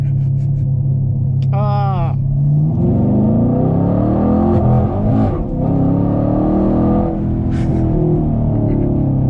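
A 2018 Chevrolet Camaro SS 1LE engine rumbles close by, then revs and accelerates with rising whine as gears change, with a brief voice heard early on.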